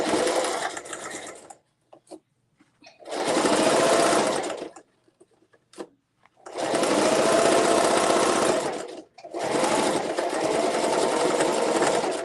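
A sewing machine runs a half-inch seam around a zipper tote bag in several loud, close bursts of rapid whirring stitching, separated by short pauses with faint handling noises.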